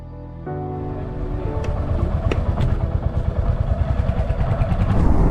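A Royal Enfield Hunter 350 motorcycle starts moving on a road ride out of Kolkata, its single-cylinder thump growing louder and faster into a steady close rhythmic chug with mechanical clatter.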